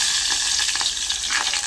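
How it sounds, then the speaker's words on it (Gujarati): Kantola (spiny gourd) and onion hit hot oil in a pan, giving a steady, loud sizzle and crackle with light stirring throughout. "અને હવે નાખી દઈએ આપણે જો કંટોલાનું ને ડુંગળી બે મિક્સર છે, તેલમાં નાખી દઈએ।"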